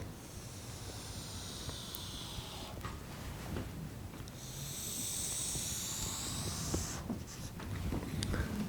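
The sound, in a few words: pen drawing a graph on paper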